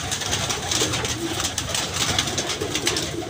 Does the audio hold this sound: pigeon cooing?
yes